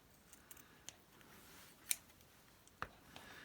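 Scissors trim straight edges off at an angle in several quick, crisp snips spread over a few seconds, close and distinct against a quiet room.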